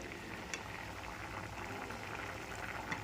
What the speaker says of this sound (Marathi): भाजीला दणदणीत अशी उकळी आलेली आहे